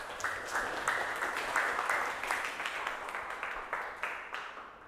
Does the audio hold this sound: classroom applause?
yes